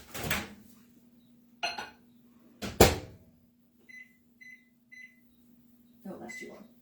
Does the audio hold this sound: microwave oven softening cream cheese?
yes